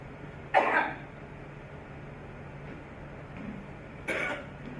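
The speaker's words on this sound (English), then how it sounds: "Now squat and cough." Two separate coughs from one person squatting during a jail intake search, one early and one near the end, close and fairly loud over a quiet room hum.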